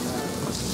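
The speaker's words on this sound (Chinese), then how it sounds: "把它煎了两面金黄" Fish pan-frying in a small amount of oil gives a dense, even sizzle and crackle, brief and steady with no talking.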